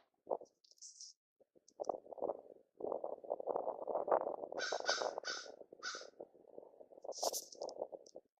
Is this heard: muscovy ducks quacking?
no